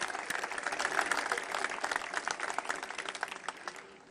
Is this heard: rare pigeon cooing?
no